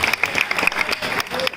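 Audience applause fills a hostel hall during a hostel day event, dense steady clapping from a crowd throughout, fairly loud and close.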